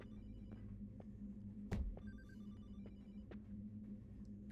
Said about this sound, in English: it's a phone going off. It's a different type of Atari bleep bloop.